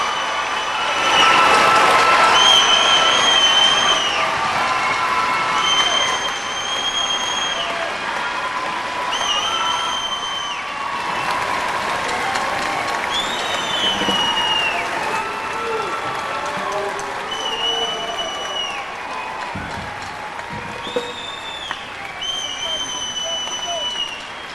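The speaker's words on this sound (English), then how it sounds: "Let's hear a nice round of applause for the class of" Crowd at a 1996 high school graduation applauding the graduating class, sustained clapping and cheering that swells early then settles, with whistles and voices scattered through the long stretch.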